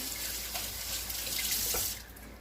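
Tap water runs steadily into a sink as rice is rinsed for Spanish yellow rice with beef smoked sausage, a continuous close splashing hiss that thins out near the end, with no talking.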